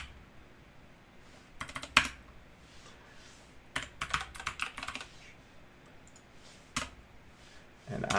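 Computer keyboard typing while writing web form code, scattered bursts of quick key clicks separated by quiet pauses, fairly soft and close, with no talking.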